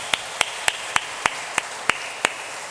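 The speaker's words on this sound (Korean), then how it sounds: "우리 잘 암송하신 영광의 얼굴들에게 박수로 우리 격려하겠습니다." Church congregation clapping in encouragement, sounding as eight sharp, evenly spaced claps about a third of a second apart, crisp and fairly close, with no talk over them.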